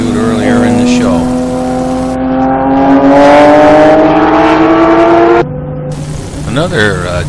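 Mazda GT race cars at a Grand Am test day, revving around 10,000 RPM: loud, close, rising high-pitched engine whine that cuts off sharply, then another car roars past, with a commentator talking over it.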